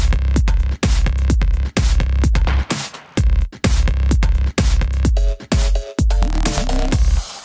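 EDM break from a remix, built from a Maschine kit: punchy kick-and-snare drum pattern with heavy low bass and synth stabs, plus short tonal synth riffs toward the end, loud and continuous with brief drop-outs.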